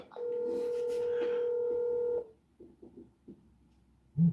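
A phone call being placed: a steady two-tone dialing tone holds for about two seconds, then stops, followed by faint clicks and a soft low thump.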